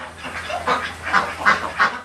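Pekin ducks on a farm in Kaliganj, Satkhira, let out a run of about five loud, close, nasal quacks in quick succession.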